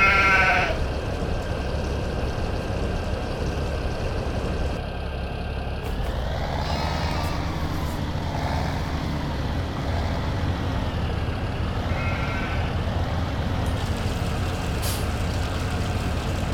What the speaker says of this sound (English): Yeah, sheep are a bit thirsty, like.